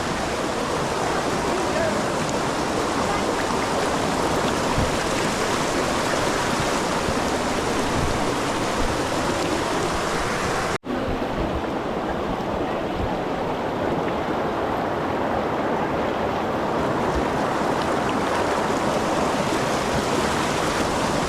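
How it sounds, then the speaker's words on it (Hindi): A waterfall near the Baba Dhansar shrine in Katra roars in a loud, steady, unbroken rush of falling water, with a brief cut partway through and no talk heard over it. "ये देखो टाइम लैप्स के साथ कितना प्यारा व्यू आ रहा है इस झरने का"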